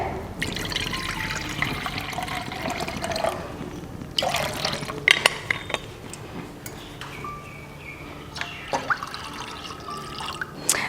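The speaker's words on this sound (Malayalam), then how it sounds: "അപ്പോൾ നമുക്ക് ഒരു 1/4 ലിറ്റർ വെള്ളം ഒഴിക്കാം." A quarter litre of water poured into a pot for tea, a short splashing pour followed by drips and small knocks in a quiet kitchen.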